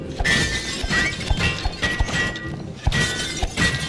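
Glass bottles smashing in the It Takes Two video game, several sharp shattering crashes in quick succession with bright tinkling fragments, close and loud.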